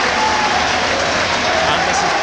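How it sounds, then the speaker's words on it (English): Dense crowd roar fills the stands at a York City v Boston United National League North promotion final, steady and loud throughout with faint chanting tones rising over the noise. "this is probably the loudest the crowd has been for the last 15 minutes or so"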